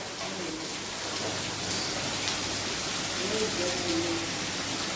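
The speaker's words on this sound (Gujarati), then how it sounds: "જો મુસળાધાર બારિશ જોઈ લ્યો" Heavy monsoon downpour pouring down steadily, a dense, loud, continuous hiss of rain with faint talk underneath.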